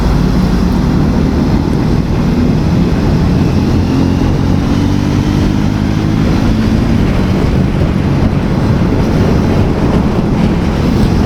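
A motorcycle engine drones steadily under heavy wind rush on a highway ride at speed, loud and continuous throughout with no talking.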